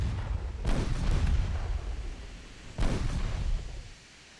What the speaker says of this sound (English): Now all the cruisers are again firing at the same target.